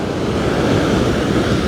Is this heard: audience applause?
no